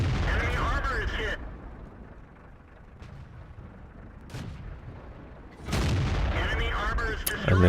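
Tank cannon shots boom out in the World of Tanks video game during a battle against an AT7, several muffled blasts under a player's ongoing voice-over.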